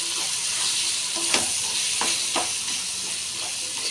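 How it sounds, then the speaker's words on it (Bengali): Spiced raw mango with chili powder and turmeric sizzles and stir-fries in a pan, a steady frying hiss broken by a few soft scrapes of the spoon as the mixture is turned. "ঝালের জন্য সামান্য লঙ্কা গুঁড়ো, হলুদ গুঁড়ো, আর একটু কষিয়ে নেব"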